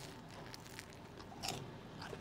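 Crunchy garlic baguette toasted in an air fryer being bitten into, a crisp crackling crunch rising about halfway through, with smaller chewing crackles close to the mic.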